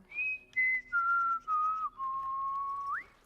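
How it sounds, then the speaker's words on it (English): Whistling in the fantasy video game Dragon Age: Origins: one clear, loud whistled tune of five held notes that step downward, ending with a brief upward slide, with no talking. "Why are they whistling?"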